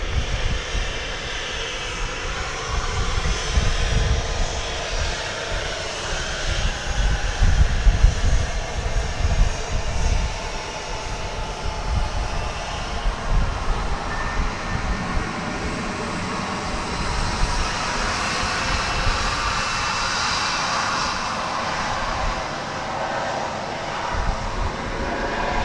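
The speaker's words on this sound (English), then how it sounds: "Looks like the next to blast off here is going to be flight 1890 in Airbus A321." An Airbus A321 jet takes off at DFW Airport, its broad engine roar and hiss loud and sustained throughout, surging then holding steady as the aircraft accelerates away, with no talking.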